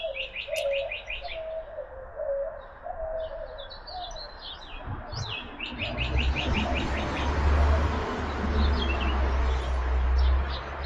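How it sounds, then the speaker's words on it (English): Doves coo in the background near downtown Bisbee, soft low repeated calls early on, mixed with nearby chirping birds, before a low rumble of wind or traffic rises and covers them. "You can hear the doves out there in the background."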